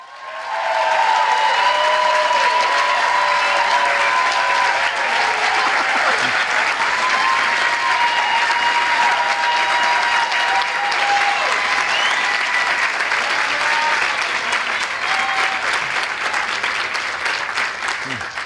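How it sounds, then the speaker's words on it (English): Sustained, dense applause from a large audience at a university sociology graduation ceremony for undergraduates, loud and steady for the whole stretch with a few faint voices mixed into the crowd. "I think you should applaud all of these undergraduates right now"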